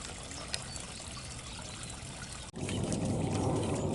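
A small solar-powered garden water fountain sits quiet at first, then starts up halfway through into a steady, close trickle and splash of running water, with no speech.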